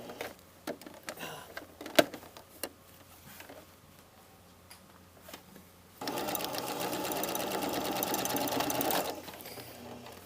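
A sewing machine stitching the facing of a jacket welt pocket starts after some quiet ticking and handling sounds, then whirs in one steady, close burst for about three seconds before stopping.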